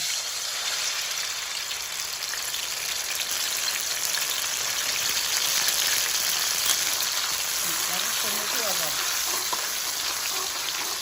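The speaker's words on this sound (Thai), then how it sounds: "ร้อนแล้วเราก็ใส่พริกแกงเลย" Red curry paste fries in bubbling hot oil in a wok, a steady bright sizzle throughout, with a few scraping stirs near the end and no talking.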